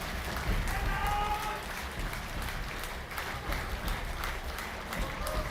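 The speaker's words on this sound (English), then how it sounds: "Listen to how crazy the crowd goes with this." A crowd at a Star Citizen presentation applauds and cheers in a steady, dense wash of clapping with scattered shouts, fairly loud and sustained across the whole stretch.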